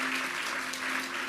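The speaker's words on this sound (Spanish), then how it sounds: "¿Cuántos dan un aplauso al Señor?" Church congregation applauds the Lord in a short, even wash of clapping, with a steady low tone running beneath it.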